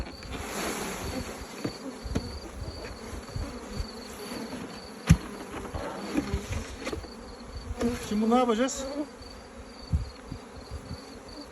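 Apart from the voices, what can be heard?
honey bees buzzing and flying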